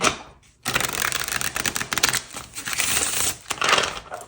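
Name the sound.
shuffling a deck of reading cards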